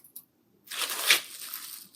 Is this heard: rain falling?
no